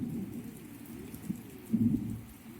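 Heavy rain pours down steadily, a dense, continuous hiss with a few louder gusts of drumming near the end; no voices.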